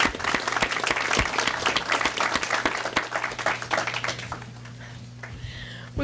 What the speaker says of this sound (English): I'd say that's worth a round of applause.